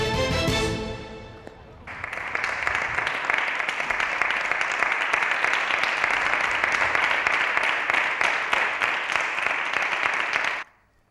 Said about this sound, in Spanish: La veintena de diputados que ha acudido hoy al Congreso ha aplaudido a la trabajadora que ha desinfectado la tribuna